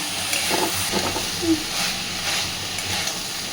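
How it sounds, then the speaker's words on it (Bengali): Soya chunks sautéing with spices in a pan, a soft, steady sizzle with faint stirring scrapes, fairly quiet and close, no one speaking. "সয়াবিনটাকেও মশলার সাথে আরও মিনিট পাতে কষিয়ে নেব"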